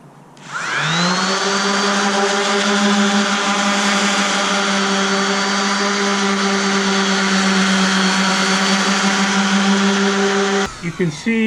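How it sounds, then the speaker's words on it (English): A 5-inch random orbital sander spins up and runs steadily against painted boat hull, a loud, sustained whine with a constant tone that cuts off abruptly near the end. "for the large areas this cuts faster, the 5-inch random orbital."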